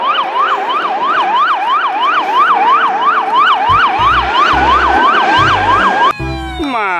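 A loud, close electronic siren from a toy fire truck wails in a rapid up-and-down pattern, with clattering plastic knocks underneath and a burst of different electronic tones at the end.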